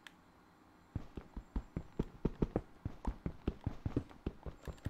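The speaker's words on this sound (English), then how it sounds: "It's a horse." Horse hooves in the Minecraft video game clop in a quick, regular rhythm after a near-silent second, each step loud and close with a hollow knock.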